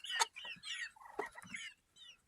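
Chickens, a mix of young roosters and hens, cluck and squawk in short bursts close by, overlapping calls with brief pauses between them.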